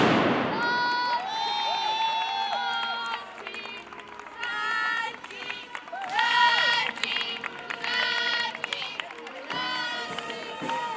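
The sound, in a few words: Fallas gunpowder firecrackers, music and applause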